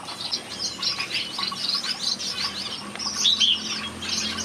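Paired finches in a large aviary give rapid, overlapping high chirps and tweets, some sharper calls standing out near the middle, over a soft continuous background of more distant birds.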